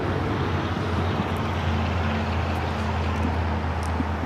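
A Bombardier Global 7500 business jet at LAX gives off a steady, loud broadband engine roar with a low hum beneath, continuous and unbroken throughout.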